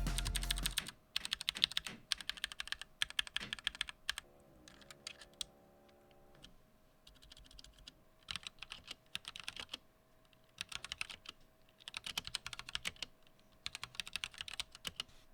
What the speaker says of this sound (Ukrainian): багато хто прийшов сюди послухати, як звучить ця клавіатура